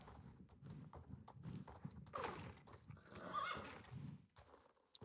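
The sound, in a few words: horse neighing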